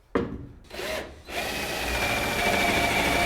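A power drill bores a hole down through a workpiece set on a table: a short burst and a brief rising whir first, then a loud, steady grinding whine that carries on to the end.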